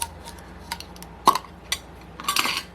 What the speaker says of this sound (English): Now what I'm going to do here is take the lid off my container